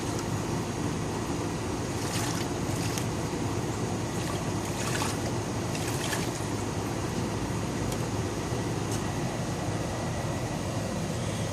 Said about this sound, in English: You're going to rinse with tap water to remove any excess hydrogen peroxide.